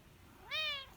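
A cat gives a single rising-and-falling meow outdoors on a deck, clear and fairly close against a quiet breezy background.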